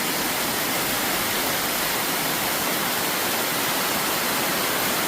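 Tigis Falls, a waterfall meeting the sea, pours with a steady, broadband roar of rushing water, loud, close and unbroken throughout.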